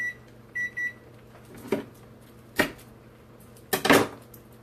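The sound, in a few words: kitchen timer beeping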